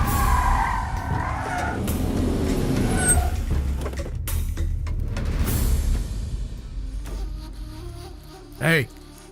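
A car rolls along with a steady engine rumble and road noise, some passing clatter and a brief squeal near the end, while voices speak over it.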